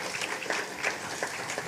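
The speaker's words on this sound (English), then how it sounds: "I think we can give them a round of applause." Short burst of steady audience clapping at a school spelling bee event, a continuous patter of many hands fairly close by.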